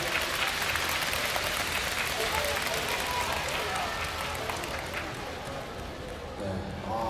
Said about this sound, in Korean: 여러분 자 경의 박수 한번 부탁드리겠습니다.